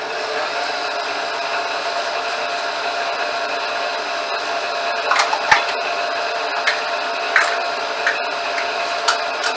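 An electric mixer hums steadily while gently mixing Armenian Easter bread dough, a constant whirring motor tone with a few sharp clicks and knocks in the second half.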